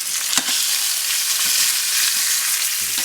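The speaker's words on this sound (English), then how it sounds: "And place my pork chops in here. And cook this for 5 minutes." Pork chops frying in a hot pan give off a steady, bright sizzle close up, with a few soft clicks of the pan being moved and no talk over it.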